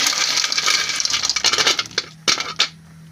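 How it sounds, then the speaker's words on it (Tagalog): Snails dropped by hand into a pot of boiling liquid with calamansi, giving a burst of bright clinking and rattling shells against metal, then a few scattered sharp clinks. "Ilagay na natin yung suso."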